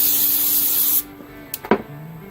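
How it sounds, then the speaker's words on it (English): A can of brake cleaner sprays in a loud hissing burst for about a second, then cuts off, followed by a couple of brief clicks and knocks nearby. "We're going to try brake cleaner."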